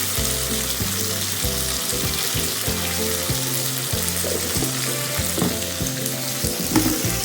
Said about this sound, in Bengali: এটিকে ভালো করে কষিয়ে নিই।